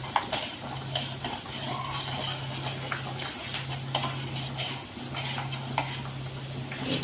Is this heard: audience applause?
no